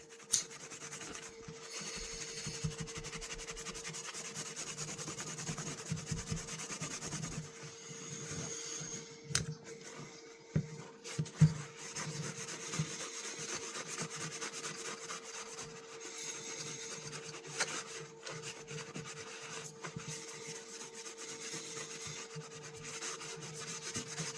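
Vintage fisherman knife blade worked on a whetstone, a steady scraping rub that repeats continuously for the whole stretch with a few sharper clicks, close and fairly quiet, no talking.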